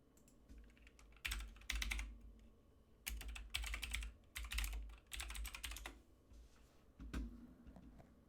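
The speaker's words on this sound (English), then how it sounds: "I'm going to type in Happy Console Gamer." Keys clatter on a computer keyboard in quick bursts of close typing, broken by short pauses, as a website name is entered; no one speaks.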